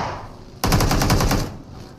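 A short, loud burst of rapid gunfire from a shotgun in a video game rings out for under a second, set against quieter game ambience.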